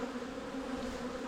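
Honeybees swarming around an open hive during an inspection, a steady close, low droning hum with no pauses.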